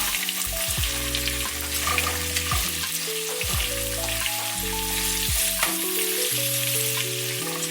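Tomatoes fry in a pan for a Telugu tomato roti pachadi, a steady close sizzle with stirring scrapes throughout, no talking.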